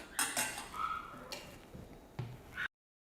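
A knife cuts through a passion fruit in a kitchen with a few sharp clicks and scrapes against a hard surface, close and moderately quiet, ending abruptly.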